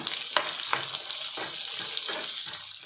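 Garlic and sesame seeds fry in a hot pan with a steady, close hiss, broken by a few rhythmic scrapes of stirring, and no voices.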